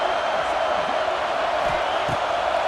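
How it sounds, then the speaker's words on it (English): Steady roar of a stadium crowd in the EA Sports College Football 26 video game, a dense, continuous wash of cheering that holds at an even level for the whole stretch. "This crowd ready to make its presence known"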